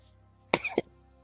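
A single short cough with a throat-clearing quality, two quick bursts close to the microphone, then quiet.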